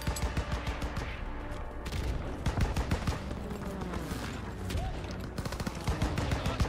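Enemy gunfire in the World War II shooter Call of Duty WWII, with dense overlapping rifle and machine-gun bursts, loud and continuous amid battlefield noise.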